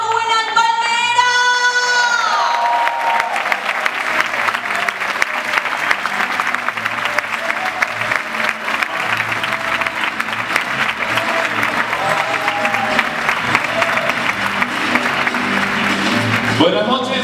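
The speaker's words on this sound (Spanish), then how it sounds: "recibamos con un fortísimo aplauso" Loud, sustained applause from a large audience fills the whole stretch, with crowd cheering mixed in and a brief tonal sound at the start.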